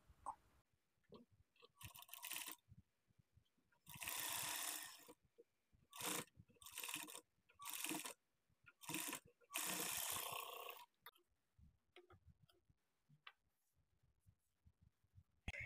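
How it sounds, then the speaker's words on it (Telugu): Domestic sewing machine running a second line of stitching over an existing seam on cloth for a puff sleeve, in several loud whirring bursts of a few seconds each separated by pauses, quick clicks and handling noises. "ఇప్పుడు ఇదే స్టిచ్ మీద ఇంకొక స్టిచ్ వేసుకోవాలి"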